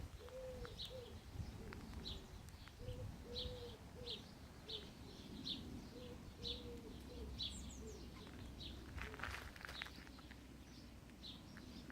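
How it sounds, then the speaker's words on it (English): Pigeons cooing in a quiet spot, a faint repeated series of soft low coos in a steady rhythm, mixed with small bird chirps in the background. "I really like the sound of pigeons"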